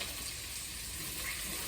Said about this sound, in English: Lovely, look at that, so delicious, sizzling in the butter.